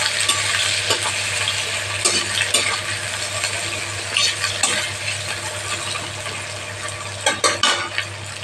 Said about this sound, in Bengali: পেঁয়াজগুলো আগে ভেজে নিচ্ছি আমি